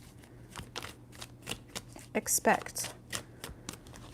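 Tarot deck shuffled in close, crisp riffles and card snaps in short bursts, heard under a person talking.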